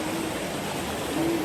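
A mountain stream flows through a wooded village in Kakopetria, Cyprus, giving a steady, close broadband rush of water that runs unbroken for the whole moment, with no talk over it.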